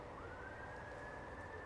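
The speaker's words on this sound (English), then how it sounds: "You hear some sirens, bud?" Emergency vehicle sirens wail faintly in the distance, a thin rising and falling tone held steadily over a quiet outdoor background.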